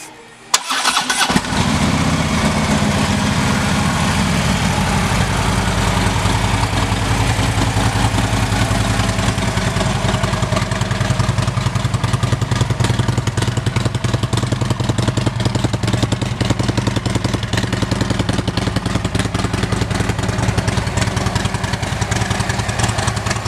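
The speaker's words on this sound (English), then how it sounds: "Let's listen to that exhaust." A 2016 Harley-Davidson Electra Glide Ultra Limited with Vance & Hines exhaust starts up and settles into a steady, loud, close idle that rumbles on alone for about twenty seconds.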